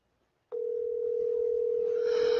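Telephone line tone on a call to an on-air caller: a single steady tone starts abruptly and holds evenly, clear and alone with faint background hiss.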